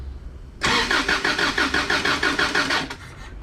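Toyota truck engine cranking over with the starter during a compression test, a steady rapid chug of evenly spaced compression pulses lasting a couple of seconds, loud and close, then cutting off.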